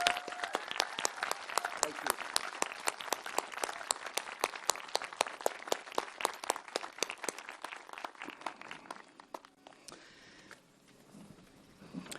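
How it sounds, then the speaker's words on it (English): A graduation audience at an outdoor-style college commencement claps for faculty and staff in dense, sustained applause that fills most of the stretch, then thins into scattered claps as it tapers off. "Please join me in giving them a round of applause."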